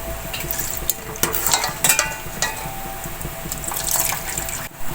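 Chicken sizzling and frying in hot oil in a pan while cooking chicken curry, a steady close crackle with watery bubbling and occasional sharper spits, no talking.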